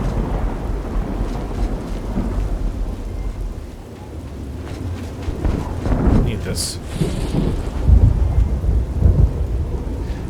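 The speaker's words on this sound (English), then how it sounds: "Now it's raining again." Steady rain hiss with low rumbling thunder in the video game The Elder Scrolls IV: Oblivion's Shivering Isles, swelling in the middle and near the end, a brief spoken remark over the storm.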